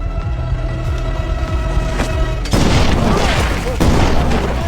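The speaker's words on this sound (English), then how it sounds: "The landmine explosion triggered a chain reaction" A movie landmine explosion bursts with a heavy, broad boom that sustains into a roaring rumble, following a tense lower drone, loud and close.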